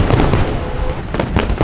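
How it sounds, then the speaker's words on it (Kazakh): Fireworks go off at the close of a Formula 1 race in Abu Dhabi, with loud dense bursts and pops crowding together over a noisy, busy outdoor crowd background. "Ал жарыс аяқталып, керемет салютпен бітті."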